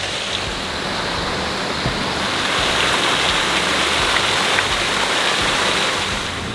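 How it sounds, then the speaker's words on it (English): Seawater surging up through metal dock grates, a steady broadband rushing and sloshing wash that swells slightly midway, close and continuous with no talk. "The sound of the water coming up through these grates is kind of like as if the grates were sinking"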